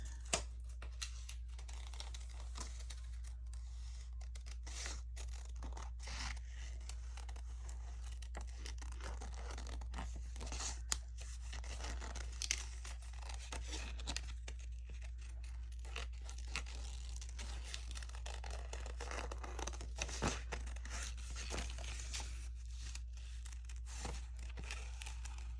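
Paper being rough-cut for a handmade sewn journal: soft, continuous crisp snipping and crinkling close by, quiet and steady with small irregular ticks, with no talk.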